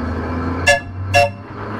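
A narrow-gauge heritage tram on the Seaton Tramway gives two short horn toots in quick succession over a low rumbling engine hum, fairly close and loud.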